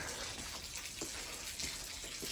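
Rainwater pours from a pipe in steady rain, a faint continuous splashing gush with soft irregular drips and spatters layered over a constant watery hiss.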